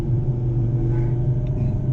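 A 612 hp Audi TT RS MTM engine in dynamic mode, with a manual gearbox and the windows open, produces a steady, deep engine drone heard from inside the cabin, constant and fairly loud throughout.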